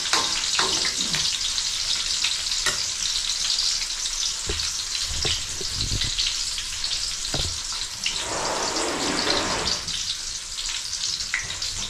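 Chicken pieces frying in hot oil, a steady close crackling sizzle that runs unbroken throughout, with scattered sharper pops and a brief stirring or shifting of the food partway through; no talking.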